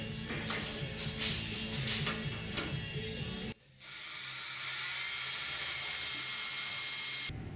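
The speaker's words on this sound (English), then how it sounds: "Just another method that allows you to get into tight locations for drilling." A high-pitched electric drill whines steadily while drilling rivet holes in a Sonex aircraft tail kit, stops briefly for a moment, then spins up again and runs continuously at close range.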